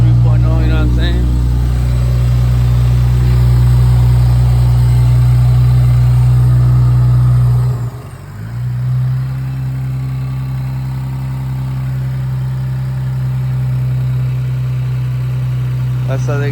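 A 3.0-litre Infiniti Q60 Red Sport fitted with Stillen intakes idles up close with a deep, steady engine hum that briefly dips midway before settling back into an even idle.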